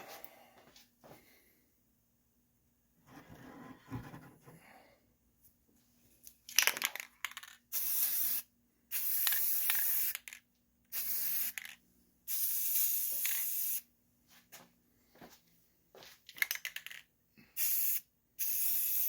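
Spray paint applied to the transom of a lobster boat: repeated loud hissing bursts of a few seconds each, separated by short silences, with faint handling noises between.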